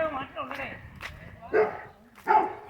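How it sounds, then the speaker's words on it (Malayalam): A dog on a hill estate in Wayanad, Kerala, gives a few sharp, fairly close barks and yips between bursts of people talking. "മുരുകൻ്റെ ഡോഗ് വിളിച്ചു തുടങ്ങി."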